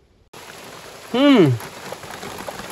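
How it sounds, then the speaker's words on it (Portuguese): Steady rain hisses over an açaí and gliricidia planting site with the holes already dug, a broad constant wash of noise, briefly crossed midway by a short rising-and-falling tonal whistle. "A chuva resolveu cair bem na hora do plantio."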